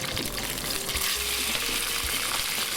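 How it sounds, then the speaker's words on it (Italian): Spaghetti d'o puveriello, pasta poured into beaten egg, sizzles and crackles in hot oil in a pan, a steady close frying hiss with light stirring scrapes. "sfrigolea tutto"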